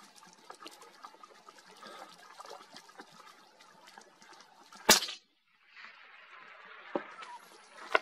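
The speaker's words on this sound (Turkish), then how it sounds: "En sağdaki suda şişesini atacağım." A single sharp crack of a rifle shot strikes a soda bottle at some distance, followed by a brief hush and then a fizzing, splashing rush of liquid over quiet outdoor background.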